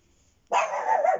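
A single loud, drawn-out dog bark erupts after a brief quiet moment, close by and alone.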